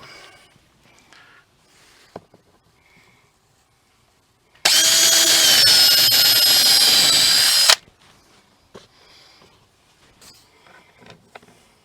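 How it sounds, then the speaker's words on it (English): A power drill whines loudly for about three seconds in one continuous burst while pre-drilling a hole for screws in a van build, with quiet handling noises and light clatter before and after. "So I'm going to pre-drill first, and then we'll put screws in."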